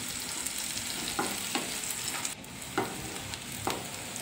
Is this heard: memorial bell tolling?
no